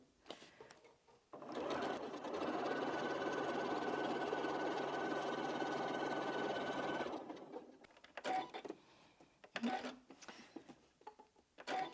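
A sewing machine stitches quilt half-square triangles in one steady, loud run of about six seconds, stops, and then gives a few short bursts as the seam is started again. No one talks.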